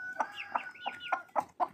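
Backyard hens clucking nearby on a windy autumn day, about six distinct sharp clucks in an irregular rhythm, clear and alone.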